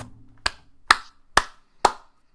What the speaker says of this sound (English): clap it up. Put the hands together, Tucker Keaton.